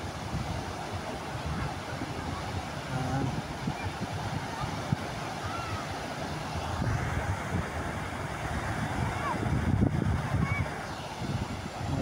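Sea waves wash steadily onto a hot beach where people are swimming, a broad continuous surf roar with gusty wind, while voices talk over it throughout.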